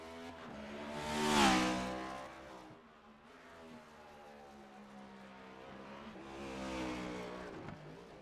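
A race car in a sim racing game on the Charlotte Roval, its engine roaring and rising to a loud peak as it passes, fading, then swelling again with revving toward the end.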